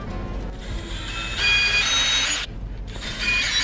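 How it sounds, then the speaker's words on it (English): A power drill bores holes into a metal plate while a TV is mounted in a semi truck cab. A steady whirring grind swells midway, cuts out briefly, then starts again, close and fairly loud. "Now we need to drill holes into the plate."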